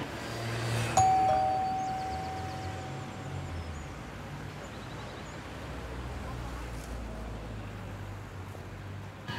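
A single electronic doorbell chime rings once, clear and fairly close, then fades over a quiet room tone.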